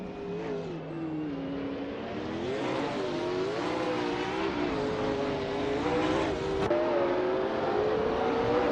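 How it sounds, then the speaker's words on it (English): Race cars, including a vintage 1971 Plymouth Barracuda Hemi and a Ferrari 288 GTO supercar, drive during a race, engines revving and shifting pitch in rising and falling sweeps, fairly faint and continuous. "Clint Shecker 21 is driving a vintage 1971 Plymouth Barracuda Hemi, known for its muscular build and classic design."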